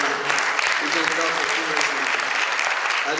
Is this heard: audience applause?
yes